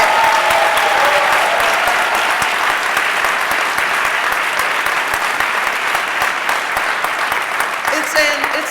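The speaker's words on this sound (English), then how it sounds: "You can give a round of applause for that." A large audience at a police commissioner's swearing-in ceremony in a middle school gives a loud, sustained round of applause, steady clapping with a few cheers throughout.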